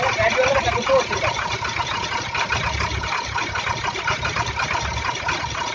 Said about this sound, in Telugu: మొత్తం సౌండ్ ఎక్కువగా ఉంది ఇంజిన్కి